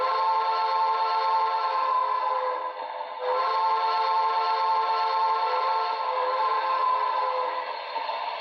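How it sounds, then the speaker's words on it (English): A BLI 2-10-2 model train sound decoder plays a steady steam locomotive whistle, holding one bright, chord-like tone for several seconds and dipping briefly once before continuing at full strength. "Here's another selectable whistle."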